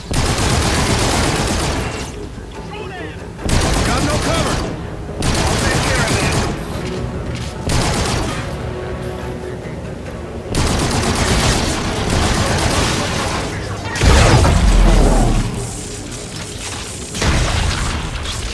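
Gunfire from a shotgun in the PlayStation 4 Pro game Call of Duty: Infinite Warfare, heavy blasts and fusillades bursting repeatedly over a dense battle mix with music, plus a deep boom near the end.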